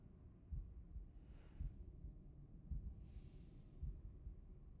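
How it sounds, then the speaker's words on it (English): A low, muffled heartbeat thuds steadily in the background of the puzzle game The Room, paired double beats repeating about every second beneath faint breathy swells. "why is there like heartbeat sounds going on in the background?"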